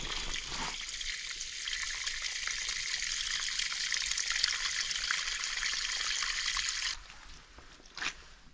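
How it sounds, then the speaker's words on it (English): Water pouring out of an emptied rain barrel at an off-grid site, a steady loud gushing stream that runs for about seven seconds, then stops abruptly, leaving a few faint drips. "I obviously need to empty this barrel out and give it a good cleaning"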